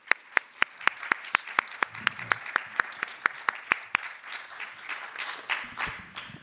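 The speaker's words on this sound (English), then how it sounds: "a round of applause for the readers" Audience at a literature conference evening reading applauding the readers, a steady run of crisp hand claps, fairly close and moderately loud, fading into softer scattered clapping toward the end.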